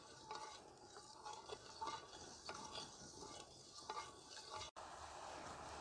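Sugar syrup for shahi tukda being stirred in a pan, with a spoon scraping and clinking in a steady rhythm over a soft, constant bubbling hiss, close and quiet.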